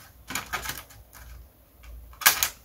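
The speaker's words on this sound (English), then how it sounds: "Snip a couple of darts into there." Scissors snip darts into tacky aircraft covering material on a large Da Vinci flyer model, giving three crisp, close cutting bursts separated by quiet pauses, with no voices.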